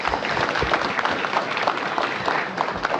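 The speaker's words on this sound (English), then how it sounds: "So give them a big round of applause." A crowd claps in a steady round of applause at a new fire and EMS station opening, with dense, continuous clapping at moderate distance.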